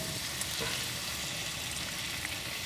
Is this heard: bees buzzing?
no